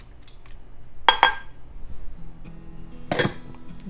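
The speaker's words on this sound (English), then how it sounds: "I'm going to add 3 eggs" Three eggs are added to gluten-free harvest apple bread batter in a bowl, with two sharp clinks against the bowl about two seconds apart over a quiet background and no talking.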